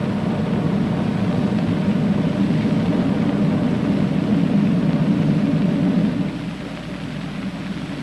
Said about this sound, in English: you hear that? Sound like our rockets were throttled back.